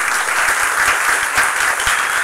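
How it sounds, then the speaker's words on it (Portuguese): A crowd applauding steadily, dense clapping filling the room without pause. "eu gostaria de pedir mais uma vez uma salva de palmas"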